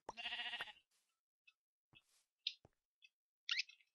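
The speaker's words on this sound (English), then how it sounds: "Got another sheep over here." A sheep in Minecraft bleats once, loud and near, then several short faint clicks and game sounds follow in otherwise quiet surroundings.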